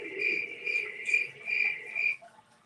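Crickets chirp in a steady series of about five bright, pulsing trills at moderate volume, close by and quiet in the background, with no voices.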